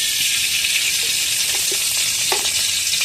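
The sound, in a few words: ghee poured into a hot pan, sizzling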